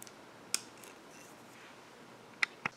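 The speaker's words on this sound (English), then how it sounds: "I need a pair of wire cutters to help me cut it." Wire cutters snipping through thick hardware-grade copper wire: three sharp, isolated clicks, one early and two close together near the end, heard alone against a quiet background.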